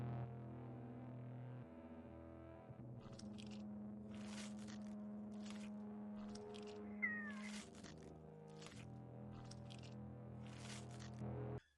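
A cat meows several times in Lacey's Flash Game remake, short distinct calls spaced over a steady droning game soundtrack.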